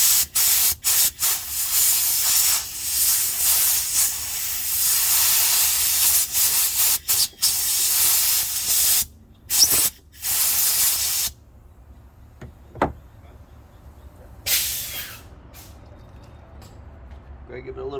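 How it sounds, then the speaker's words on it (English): Short hissing bursts of spray lubricant are squirted onto a welded nut holding a broken bolt in a PWC hull, loud and close, in several quick pulses and one longer blast, followed by quieter handling sounds. "Going to give it a little squirt under so it soaks in"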